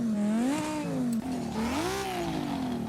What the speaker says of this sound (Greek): Αρχίζω από τη μηχανή πρώτα, να δω πώς ακούγεται